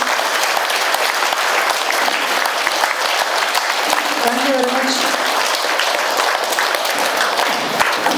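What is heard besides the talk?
audience applauding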